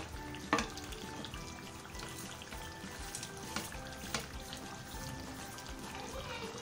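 Onions fry for chicken korma with a soft, steady sizzle and light crackle, faint and close, with a few clinks of a spoon against the pot.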